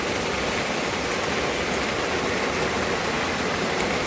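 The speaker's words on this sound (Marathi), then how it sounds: "तर बघा आज खूपच पाऊस येतोय" Heavy rain pouring outside a home, a dense, even hiss of falling water that continues steadily without pause.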